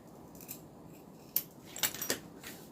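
Scissors snip through fabric while trimming a panel for a crossbody bag, a few quick, close cuts clustered together in a quiet room.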